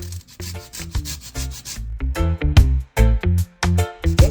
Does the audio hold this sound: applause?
no